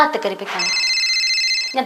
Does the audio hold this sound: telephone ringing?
yes